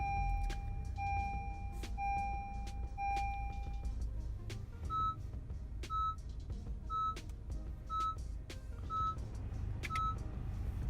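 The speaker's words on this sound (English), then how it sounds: "in addition to the normal startup car sound that you hear on on all Accords 9th generation Accord" A 9th-generation Honda Accord running quietly while a short electronic startup chime plays, then a steady series of evenly spaced beeps, about one per second.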